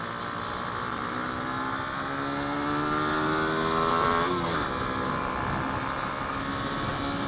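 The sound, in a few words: Hyosung Comet 250 motorcycle accelerating on highway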